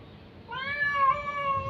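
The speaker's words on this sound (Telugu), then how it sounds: "కొత్తగా వచ్చిన పిల్లి ఇది" A newly arrived cat meows once, a clear, close, drawn-out harmonic cry beginning about half a second in and holding steady to the end, alone over faint room noise.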